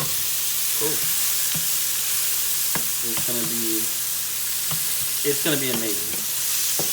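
Garlic sizzling and frying in a pan for shrimp lo mein, a steady hiss with occasional stirring clinks and scrapes, while people talk briefly over it.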